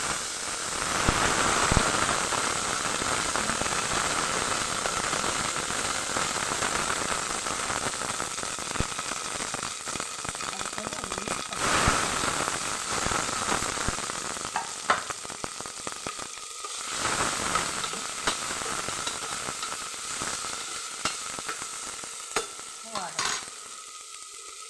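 Onions frying in a little hot oil for an egg curry, a continuous crackling sizzle like light rain, with intermittent utensil scrapes and clinks against the pan throughout, no talking.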